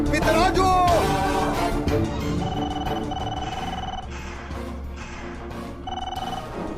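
A telephone rings in a dramatic scene, repeated electronic ringing tones at a steady moderate level after a sharp burst of music and effects at the start.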